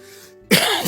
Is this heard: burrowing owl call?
no